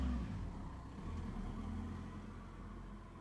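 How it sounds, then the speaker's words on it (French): A car passing outside, a low, steady engine rumble that swells slightly and fades, heard faintly at a distance with no talking. "j'ai arrêté de parler parce qu'il y avait une bagnole"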